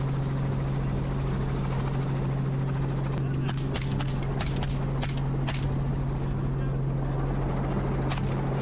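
A helicopter carrying camel hunters over Queensland gives a steady low rotor drone throughout, with faint sharp clicks and knocks near the middle and end.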